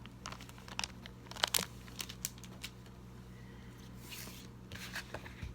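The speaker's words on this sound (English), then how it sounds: "leaf through it a couple more times without any talking and just page turning" Soft paper rustling and crisp flicks of pages being turned in a Yellowstone picture book, several irregular turns close by in a quiet room with a low steady hum beneath.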